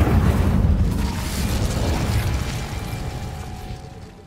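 Confringo fire spell explosion in the Hogwarts Legacy video game, a loud deep boom that rumbles and slowly fades over a few seconds.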